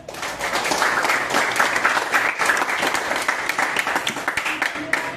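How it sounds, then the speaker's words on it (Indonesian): A classroom of students claps together, a dense, steady burst of applause that carries on for about five seconds with no talking over it. "Silakan, tepuk tangan untuk teman-teman."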